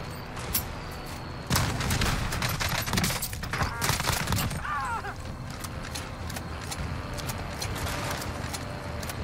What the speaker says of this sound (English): Oh, he's getting shot up.